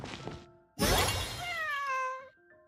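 A cartoonish cat in the Genshin Impact video game lets out a short chirp, then a longer rising-and-falling meow, crisp and close, with brief pauses around it.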